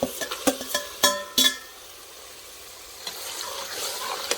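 Two kilograms of beef pieces stirred in a pan for a curry, with a few sharp scrapes and clatters of the spoon at the start, then a soft, steady sizzle of frying underneath.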